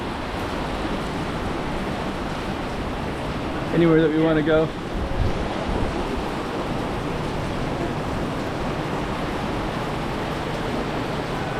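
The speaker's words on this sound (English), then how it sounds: "Oh, that's really raining." Heavy rain pours steadily in a dense, constant hiss in Zhuhai, China, with a person briefly speaking over it.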